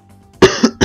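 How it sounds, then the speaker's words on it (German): Two or three sharp, close coughs in quick succession from a person, loud and isolated against near silence. "Sorry, ich muss noch gerade husten."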